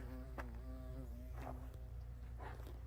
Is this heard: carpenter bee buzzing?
yes